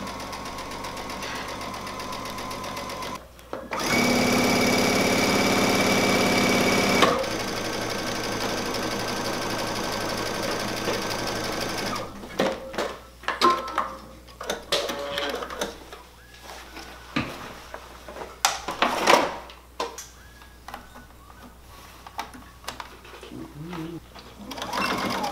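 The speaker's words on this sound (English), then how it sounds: "we've converted into a sewing machine now, and now we're just going to sew the pant leg back together" A Baby Lock Destiny II sewing machine stitches a jeans pant leg back together, running in a steady loud whir for a few seconds and then in short, irregular start-stop bursts of rapid needle clatter.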